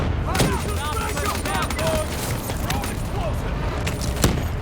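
Rapid gunfire and explosions from a Call of Duty Black Ops III campaign mission on PS5, a dense, continuous battle din with several bursts and a sharp crack near the end, with combat voices talking over it.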